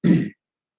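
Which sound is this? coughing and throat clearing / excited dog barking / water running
coughing and throat clearing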